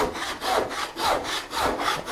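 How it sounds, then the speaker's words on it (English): Hand saw cutting through scrap wood in a woodworking shop, steady rhythmic back-and-forth rasping strokes, about four per second, close and alone. "and finish sawing"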